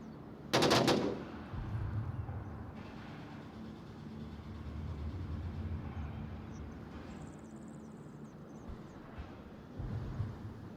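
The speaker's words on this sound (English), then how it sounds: "Shots from Deflade. Not really sure where he's firing, what he's firing at." A loud short burst of gunfire in the VR shooter Onward rings out near the start, followed by a long low rumbling background with a faint later shot or two.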